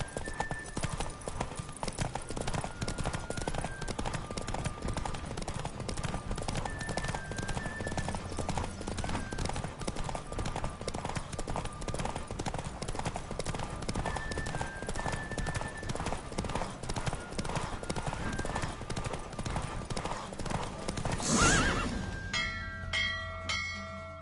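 Horse hooves in The Witcher 3 game clatter in a fast, steady clip-clop throughout, loud and close, with faint tonal chimes behind and a sharper burst near the end.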